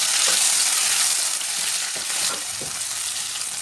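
Onions, green chillies and tomatoes sizzle steadily in a pan, a dense close frying hiss with a few soft scrapes of stirring, no voices.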